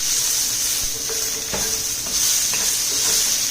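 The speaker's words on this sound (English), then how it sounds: "Basically, you just want to keep stirring them around" Sautéed peppers and onions are stirred around in a hot pan over medium heat, producing a steady bright sizzle with a few soft scraping strokes, close and alone.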